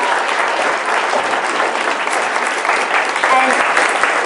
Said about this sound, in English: give a huge round of applause for these